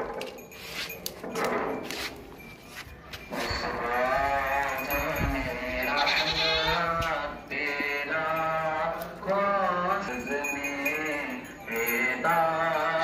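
A pure desi Makhi Cheeni goat over ten months old, kept for Qurbani sacrifice, bleats repeatedly in long wavering calls, fairly loud and close, with faint rustling and background noise between cries.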